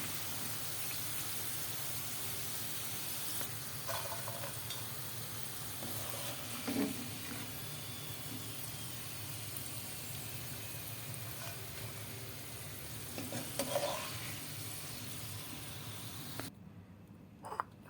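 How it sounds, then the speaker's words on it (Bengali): French fries fry in hot oil with a steady, dense sizzle and crackle that carries on for a long stretch, with occasional clinks near the end and no talking. "হয়ে গেল আমার ফ্রেঞ্চ ফ্রাই ভাজা।"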